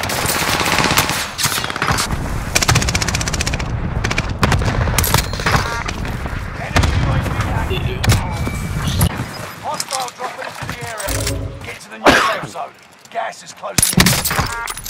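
Rapid automatic gunfire and sharp single shots in the video game Call of Duty: Warzone, loud, dense bursts with brief gaps, over game sounds and players talking.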